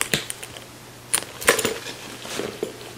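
A Loungefly cosplay bag's snap closure clicks and clatters a few times, sharp close taps with a couple of louder bursts among light rattling and no talking.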